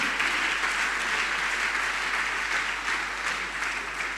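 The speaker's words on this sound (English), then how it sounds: "I want you to clap for Mike Onwara." Audience applause at a closing ceremony, a dense sustained wash of clapping at steady volume that tapers slightly toward the end.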